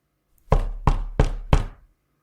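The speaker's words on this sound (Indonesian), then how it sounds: "Dia dikagetkan dengan suara ketukan yang berasal dari pintu dapur." Four sharp knocks on a kitchen door, evenly spaced and close, each a solid thud with a short decay, then silence.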